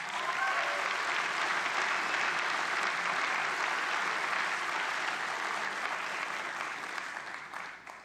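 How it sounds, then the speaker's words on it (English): A graduating class of 2017 applauding themselves, a broad continuous roar of many hands clapping that holds steady for several seconds, then thins and tapers off toward the end. "How about giving yourselves a round of applause?"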